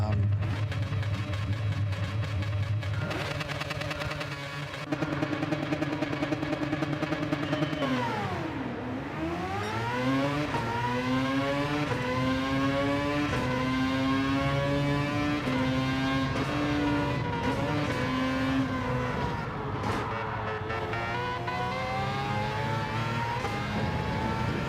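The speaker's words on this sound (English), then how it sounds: "Hear my engine over the others." Race car engines in Gran Turismo 7 during online lobby racing, a loud sustained whine rising through the gears with a sharp dip and climb as one car shifts, other engines droning underneath.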